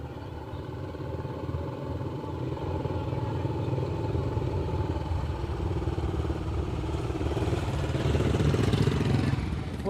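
A Royal Enfield Bullet motorcycle engine runs steadily and close by, giving off a continuous rough thumping clatter that grows slightly louder toward the end.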